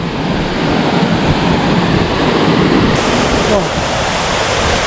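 Salewangan waterfall in Gowa roars as a loud, steady broadband rush of falling water heard up close, with a brief exclamation from a person over it.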